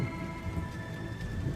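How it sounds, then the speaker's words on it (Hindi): Heavy, steady rain in a Hindi cartoon story about a poor farmer: a dense, continuous downpour with a low rumble underneath and a faint sustained tone, with no talking. "3 दिन लगातार बारिश होती रहती है।"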